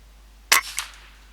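A single air rifle shot at a rabbit about 40 yards away during an outdoor hunt: one sharp, crisp crack, then a fainter second snap moments later, with quiet surroundings.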